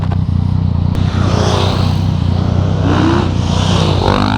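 A motorcycle on the TT course accelerates hard and lifts into a wheelie, its engine roaring steadily and close with a rising pitch toward the end.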